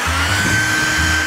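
A steady, loud whirring blow like a hair dryer runs without pause, with a low motor hum and a high whine on top.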